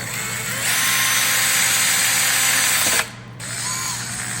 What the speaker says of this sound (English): So I'm just going to use a step-up method where I'm drilling with a small drill first.